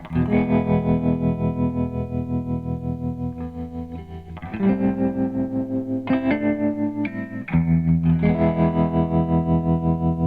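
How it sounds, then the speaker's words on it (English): Electric guitar played through a Keeley Zoma pedal set to deep, fast sine-wave tremolo, sustained chords pulsing smoothly in volume, changing chord several times, loud and alone with no talking. "So what we've got there is we've got sine wave tremolo, right?"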